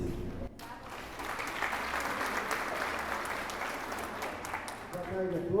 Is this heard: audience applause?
yes